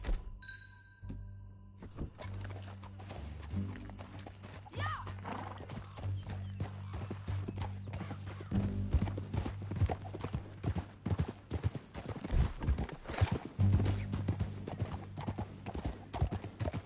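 Steady hoofbeats of a galloping horse in Red Dead Redemption 2 pound on for a long stretch, with a whinny, thumps and game sound effects mixed in, close and continuous.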